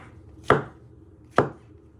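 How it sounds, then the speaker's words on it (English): Two crisp knife strokes through mushrooms onto a cutting board, close and distinct, about a second apart with quiet between. "You're first going to start off with your mushrooms. So what you want to do is you just want to finely slice them."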